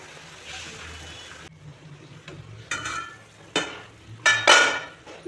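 A lid set onto a cooking pot of simmering banana-flower curry on a low gas flame, several sharp metallic clanks over a faint sizzle, close and growing louder toward the end.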